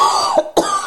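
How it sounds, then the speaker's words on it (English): A single short cough followed quickly by a second, close and loud, from a person on a podcast. "I need to cough again."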